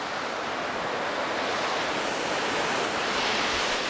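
Cascading waterfall on a landscape shoot amid green foliage, a steady, dense roar of falling water that stays loud and unbroken throughout, with no voices.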